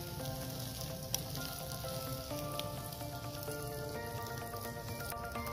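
A Tomahawk steak sizzling over hot embers, with a steady crackling hiss of fat that stays even throughout, sounding close and moderate in level with a faint tonal hum underneath and no voices.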